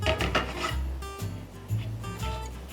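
Almonds toasting in a pan are stirred and tossed, giving rapid rattling, scraping and clattering of nuts and utensil against metal in uneven bursts, close and fairly loud, no speech.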